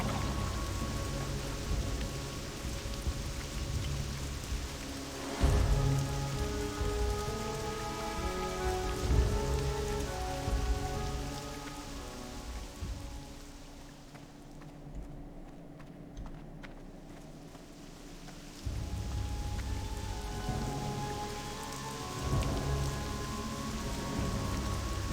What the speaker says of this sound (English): We get a nice relaxing rain in Thunder Bluff for the end.